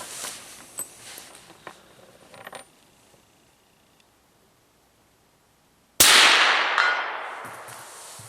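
A suppressed rifle firing 168-grain match ammunition at a steel silhouette 200 yards away produces one sudden loud crack with a ringing tail. A few seconds of near-quiet handling noise come before it.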